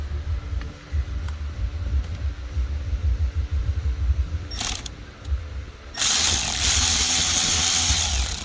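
A power tool turning Torx T25 screws on a Maserati Quattroporte wiper lever, with ratcheting, clicking mechanical sounds, then a loud continuous whirring burst near the end, close up.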